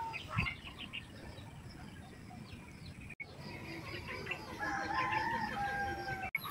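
Chickens cluck and a rooster crows faintly at a distance over a low background hum, with scattered bird calls.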